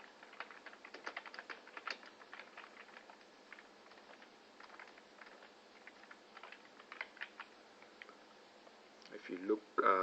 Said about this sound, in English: You can type those words there.